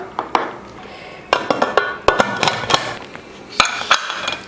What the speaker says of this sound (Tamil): குக்கர் மூடி போட்டு விசில் போட்டாச்சு.